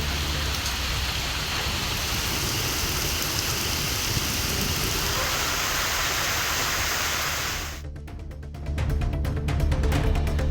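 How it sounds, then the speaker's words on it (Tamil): Moderate rain falls over Periyakulam in Theni district, a steady dense hiss of drops that briefly dips and then returns, with no voices present. "தேனி மாவட்டம் பெரியகுளம் மற்றும் அதன் சுற்றுவட்டார பகுதிகளில் மிதமான மழை பெய்தது."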